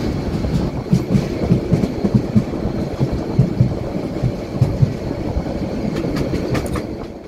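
Rumbling, rhythmic clatter of a moving train heard from inside a passenger carriage, with steady low wheel noise and repeated clickety-clack beats running throughout, no voices.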